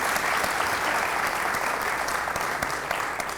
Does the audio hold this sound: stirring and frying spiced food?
no